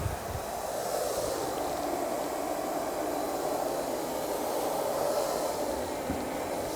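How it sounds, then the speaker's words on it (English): A Miele vacuum cleaner switches on and runs with a steady, even motor whir and airy hiss, sounding close and continuous with no talking. "So if we turn the vacuum on."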